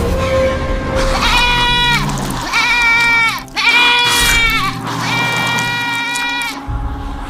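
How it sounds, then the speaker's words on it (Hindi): A goat bleats repeatedly in a horror story scene set in a cave, with four loud, close, wavering cries in a row. "एक बकरी घूमती हुई गुफा के अंदर आ गई है"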